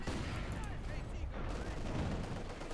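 Rapid dense bursts of MG42 machine-gun fire mixed with battle noise in the strategy game Company of Heroes 2, loud and continuous with a commentator talking over it.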